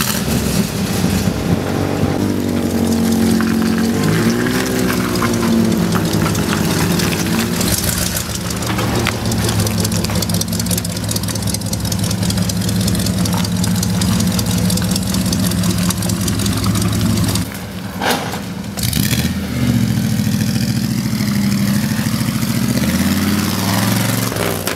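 A widebody Toyota AE86 idles steadily for a long stretch, a close, even low engine drone with a brief dip and revving change near the end, heard without talk.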